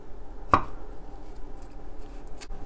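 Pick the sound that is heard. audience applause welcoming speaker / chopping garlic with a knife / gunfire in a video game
chopping garlic with a knife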